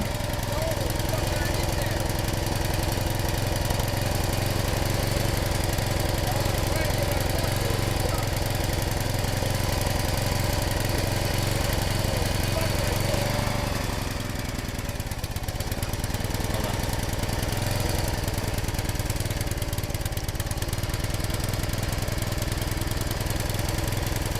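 A small gasoline engine on a firewood log splitter, used for splitting semi-seasoned oak, runs steadily throughout with a loud, rough mid-range drone. Its governor is faulty, and the tone dips briefly midway before it carries on.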